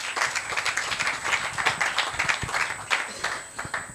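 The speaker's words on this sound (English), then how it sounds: "A round of applause for Yemisi," A round of applause at a business conference panel, a small crowd clapping in quick irregular bursts that stay moderately loud and steady throughout.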